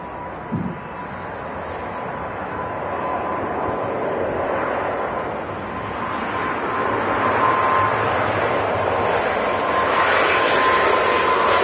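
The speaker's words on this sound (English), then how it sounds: "Qatar Airways 777 spooling up" Qatar Airways Boeing 777 engines spooling up at Manchester Airport, a broad steady jet roar that swells gradually louder over about twelve seconds, with a brief thump near the start.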